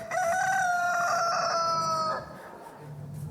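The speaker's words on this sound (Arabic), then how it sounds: "قبل أن يصيح الديك ستنكرني 3 مرات يا بطرس" A rooster crows once, a loud, drawn-out cock-a-doodle-doo heard up close that stretches over about two seconds and then trails off into quiet background noise.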